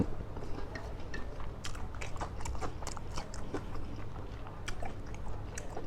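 Dry Thai sukiyaki being eaten, with steady close-up crunchy chewing and biting throughout, over a low background hum, and no talking.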